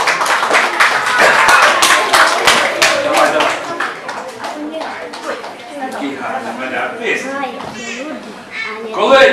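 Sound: audience clapping

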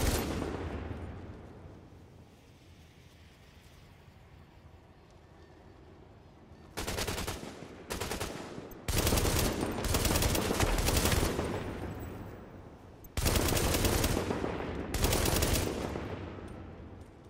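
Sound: weapon gunfire in The Division video game

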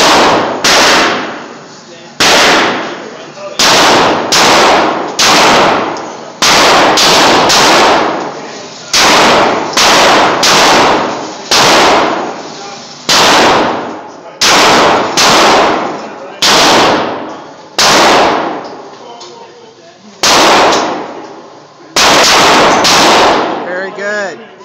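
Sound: gunshots from a gun

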